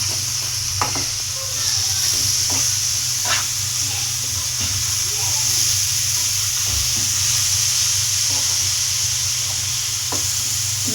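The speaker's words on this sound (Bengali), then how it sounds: "নেড়ে চেড়ে মিক্স করে দিলাম" Food being stirred and mixed in a hot cooking pan after the lid comes off, with a steady sizzle under scattered scraping clicks of the spoon throughout, loud and close.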